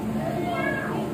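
Children in a group imitate a cat's meow, their voices rising in a short, bright, wavering mew over a murmur of other kids.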